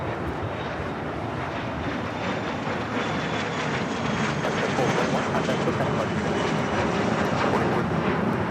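Airliner engines roar steadily through a takeoff at Los Angeles International Airport, a broad, continuous rumble that holds loud and even for several seconds with no voices over it.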